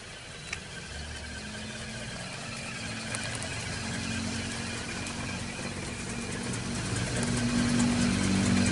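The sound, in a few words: petrol car engine idling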